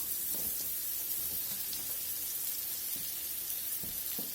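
Bananas sizzle in a frying pan, a steady close hiss of frying with a few soft clicks and stirs over it.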